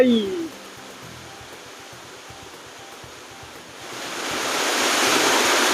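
Salad Dai waterfall in the forested hills of Nakhon Nayok, Thailand, heard as a broad steady rush of falling water, softer at first and then swelling louder and closer, with no talking over it.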